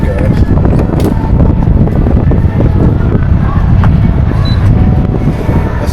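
Strong wind roars and buffets a microphone at a truck stop. The rumble is loud and continuous with gusty bursts, and the low noise of vehicles blends in underneath.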